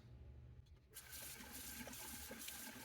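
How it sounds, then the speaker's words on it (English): After shaving with a Rockwell 6c safety razor and Wilkinson Sword blade, a tap suddenly opens and water runs steadily into a sink for a quick rinse, close and fairly quiet, with no talk. "Let me do a quick little rinse."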